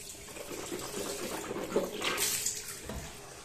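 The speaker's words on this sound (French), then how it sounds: "Donc on rince vraiment bien." Running tap water splashes steadily while teeth are rinsed after using whitening strips, a continuous close, moderately loud flow with gurgling swells.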